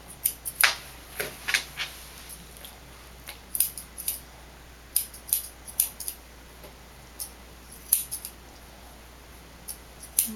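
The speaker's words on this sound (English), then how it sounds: "You can use your scissors to just move up the hair that you need to get out of there." Scissors trimming a cocker spaniel's hair snip repeatedly in quick, irregular bursts of sharp metallic clicks, close by, with short pauses between runs of cuts and a faint steady hum underneath.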